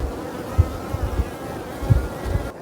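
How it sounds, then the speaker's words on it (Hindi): Honeybees buzzing around a house wall where they seem to have built a hive, a close, steady drone with a few louder passes of individual bees near the listener. "घर के यहीं पास में इस वाली दीवार पे मधुमक्खियाँ भिनभिना रही हैं"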